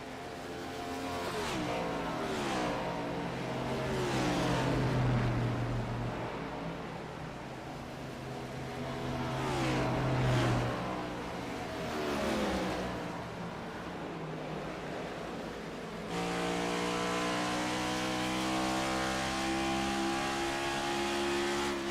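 Next Gen Cup race cars roar around the Dover track during a race, with engines droning and swelling as cars pass one after another and a steady loud roar in the final stretch.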